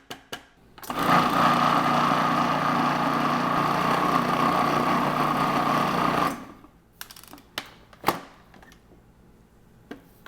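Food processor blending garlic and garbanzo beans into hummus, a loud steady whirring motor grind for about five seconds, then stopping, followed by a few sharp clatters and bumps.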